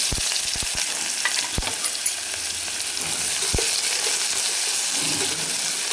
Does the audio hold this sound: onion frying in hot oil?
yes